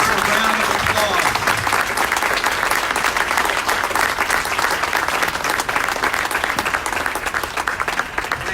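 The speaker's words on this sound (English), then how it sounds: "So let's give our office seekers a round of applause." An audience at a Commonwealth Attorney candidate forum breaks into loud, continuous applause, dense clapping that stays strong throughout before easing slightly at the end.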